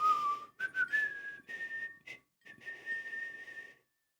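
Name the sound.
whistling flute tune in video game Quest for Glory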